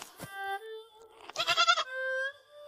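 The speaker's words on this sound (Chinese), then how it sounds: "是一只小山羊。" A young goat caught in a forest trap bleats in several wavering, nasal cries. The calls are close and clear, with a louder shaky bleat in the middle and a quiet background.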